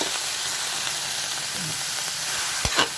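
Shredded cabbage sizzling in a hot pan with oil for a miswa soup, a steady close frying hiss broken near the end by a couple of sharp crackles as it is stirred.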